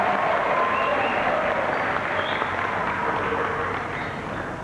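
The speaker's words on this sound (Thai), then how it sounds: "ขอเสียงปรบมือดังๆ" An audience at a boxing event in Thailand applauds in a steady, dense wash of clapping and crowd noise that fades slightly toward the end.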